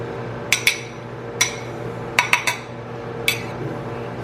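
A knife roughly cutting butter in a backyard kitchen while making blackberry cobbler, heard as six sharp clicking taps of the blade against a dish, spaced irregularly over a low steady background hum.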